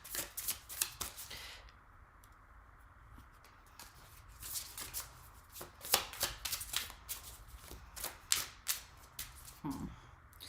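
Tarot cards are shuffled by hand in quick, crisp bursts of riffling and slapping, close and fairly quiet, with short pauses between rounds and no talking.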